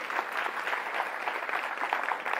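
Sustained applause from an audience closing an ethics and technology debate, honoring the young participants. Dense, steady clapping fills the whole stretch at an even level, with no speech over it.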